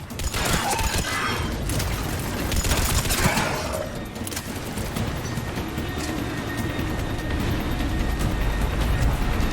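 Sustained cover gunfire in the Mass Effect 3 video game, with dense, continuous bursts of shots and sharp crackling impacts running unbroken at steady loudness throughout.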